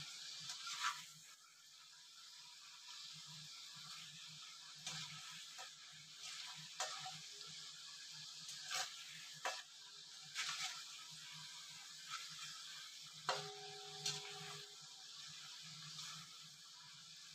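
Malvani khaja pieces frying in hot oil, a steady soft sizzle with occasional clinks and stirring sounds, fairly quiet and close.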